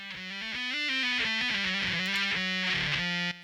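A bass line runs through a free TSE Audio BOD Sansamp-style plugin with added saturation, giving a gritty, distorted tone as a short melodic run of sustained notes plays steadily and alone.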